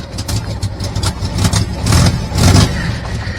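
A 1968 VW Fastback air-cooled engine running just after starting, loud and close, with uneven throttle blips that swell the rumble, and no talking.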